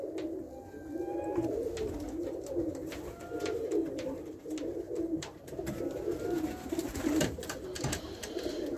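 Pigeons cooing steadily in a loft after returning from flight, a dense chorus of low rolling coos with occasional wing flutters and clicks, close and continuous.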